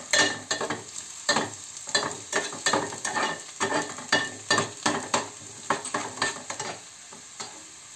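Fresh coriander frying in hot oil for a kalva sukha (oyster) dish, giving a steady sizzle broken by a regular series of scraping stirs, close and moderately loud with no talking.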